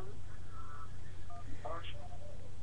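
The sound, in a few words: phone ringing with an incoming call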